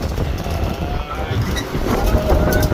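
Strong wind and rough waves at sea batter a boat in a storm, a loud, continuous roar of wind buffeting and rushing water, with a voice speaking over it.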